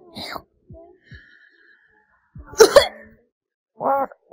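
A single forceful sneeze bursts out mid-clip, loud and close, between quieter breathy sounds and a short vocal noise afterward.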